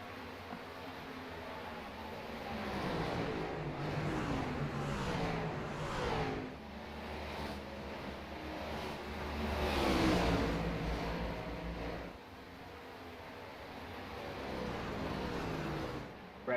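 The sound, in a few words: race cars racing at Phoenix Raceway in a racing video game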